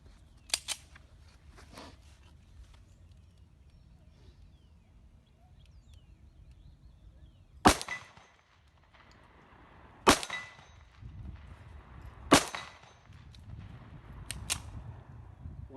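Outdoor shots from a .45 Colt firing 255-grain hard-cast semi-wadcutter loads with IMR 800X powder: sharp, loud single cracks spaced a couple of seconds apart, with a few fainter pops and quiet handling noise between shots.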